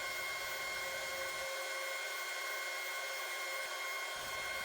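A steady, even machine whine with a constant tone runs throughout, close and continuous, as an oscillating spindle sander spins while wood is sanded.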